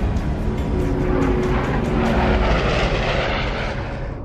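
Douglas SBD Dauntless dive bombers taking off, a dense continuous roar of piston aircraft engines with a faint steady drone tone, loud and close throughout.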